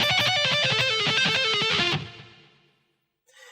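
Distorted electric guitar rips through a solo at full speed, a fast dense flurry of notes for about two seconds before ringing out and fading, followed by a faint brief sound after silence.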